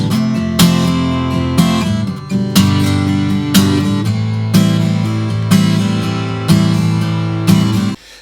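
Acoustic guitar strums the pattern, open and unmuted, with ringing chords struck in a steady rhythm, loud and close with no voice.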